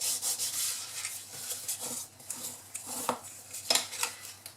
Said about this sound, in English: So just going to fold and fold and burnish the score lines.